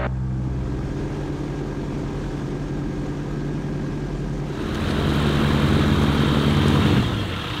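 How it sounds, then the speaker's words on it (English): ICON A5 amphibious seaplane in flight with the windows open: a steady propeller and engine drone with wind rush in the cabin that swells louder partway through, no talking. "We're in a seaplane."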